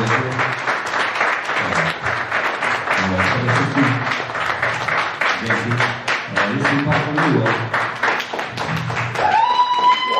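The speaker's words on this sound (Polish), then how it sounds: "Wielkie brawa!" A concert audience in Białystok applauds to welcome a performer on stage, with dense, sustained clapping and a voice rising over it at the end.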